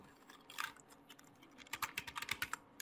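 Someone types a preset name into Adobe Premiere Pro on a computer keyboard, with a short burst of clicks followed by a longer run of quick, crisp keystrokes, close and clear.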